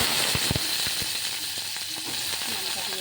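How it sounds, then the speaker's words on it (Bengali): Mustard seeds and a dried red chilli crackle and sizzle in hot mustard oil as a tempering, with sharp pops scattered over a steady, close frying hiss. "ফোড়নে দিয়েছি সর্ষের তেল, সর্ষে আর একটা শুকনো লঙ্কা।"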